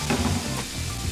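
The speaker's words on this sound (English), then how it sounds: "We're going to take that leftover butter and just add it to that pan to enrich it." Leftover butter sizzles and crackles steadily in a pan just taken off the heat, a close, continuous frying hiss with no talk.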